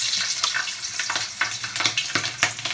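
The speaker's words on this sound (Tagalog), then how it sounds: "Prito na tayo. Unahin natin yung mga taba." Loud, steady sizzling of pork fat frying in a pan for dinakdakan, with crackling pops scattered throughout.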